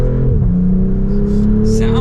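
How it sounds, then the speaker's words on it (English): A 2025 BMW M440i coupe's 3-liter inline-six revs in sport mode on a downshift from second gear, a loud steady engine drone that briefly dips and rises. "A lot of the 3-liter inline 6 cylinders from BMW, I would say, sound pretty good."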